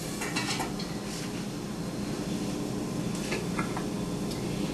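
Sweet potato fries sizzle in hot oil in a pan as they are stirred, a dense continuous crackling hiss with occasional scraping and clinking from the utensil, close and steady, no talking.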